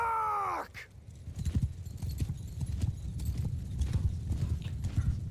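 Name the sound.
cavalry horses galloping in Bannerlord video game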